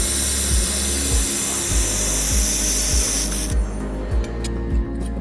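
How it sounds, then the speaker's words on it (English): An air-cooled laser welding machine working on 1 mm thin aluminum, a loud steady hiss and hum with rhythmic low pulses, cutting to a quieter hum partway through, no talk. "Let's test how powerful our air-cooled welding machine really is."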